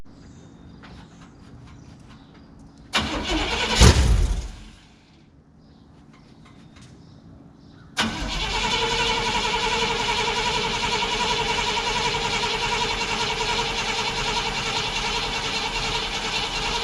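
A 1952 Ford rat rod engine fires up abruptly after a quiet stretch and a short clunking rattle, then settles into a loud, steady, rough idle close by.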